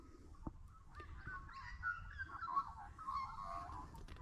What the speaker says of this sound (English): And hear all the birds.